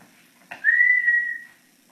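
A single sustained whistled note, clear and fairly close, lasting about a second after a brief breathy onset, with no talking.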